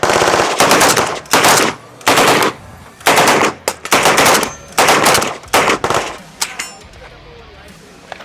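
Bursts of rapid automatic gunfire from an MB47 rifle at the Demolition Ranch shooting range, loud and close, firing in short strings with brief pauses before falling silent.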